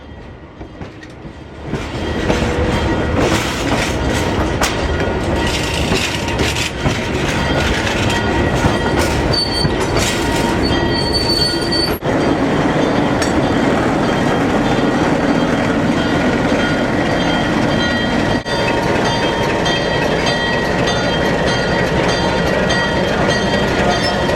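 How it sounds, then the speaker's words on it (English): A train arriving at a station in southern Peru rumbles steadily and loudly nearby, wheels clattering and squealing on the rails in a continuous roar, with no voices. "We gathered at the station, where our train soon appeared."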